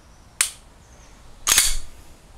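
Avidity Arms PD10 pistol dry-fired close up, one sharp trigger-break click followed about a second later by a louder, slightly longer reset click, with near silence around them.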